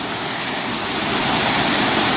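Fast-flowing water pours over a waterfall at Ricketts Glen State Park, a loud, steady broadband roar heard up close that swells slightly, with no voices.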